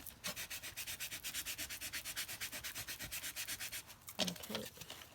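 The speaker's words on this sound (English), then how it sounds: "just going to sand that down" A hand sander works a chipboard tile in a fast, steady rhythm of rasping strokes, close and loud for about four seconds, followed by a brief pause and a few scraping knocks as the tile is handled.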